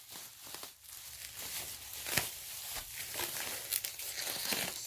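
Packaging around a Bissell PowerClean vacuum cleaner part is pulled away, giving close crinkling and crackling of plastic wrap with sharp rustles and tearing bursts throughout, no voices.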